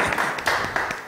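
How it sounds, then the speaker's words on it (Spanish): Brief applause from a summer TV show audience, a short burst of scattered claps over murmuring voices lasting about a second. "¡Aplauso!"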